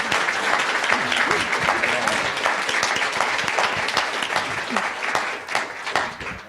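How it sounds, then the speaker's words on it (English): Audience at a community event on families in recovery applauds a speaker, a loud, dense stretch of many hands clapping with faint voices mixed in underneath. "Let's give him a round of applause."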